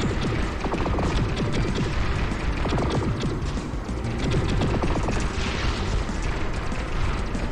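A ship firing at a boss in the mobile shooter Sky Force Reloaded, a constant stream of rapid shots and booming impacts layered over game music at an even, loud level.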